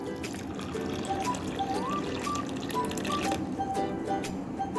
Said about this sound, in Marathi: ही मी भिजत घालत आहे.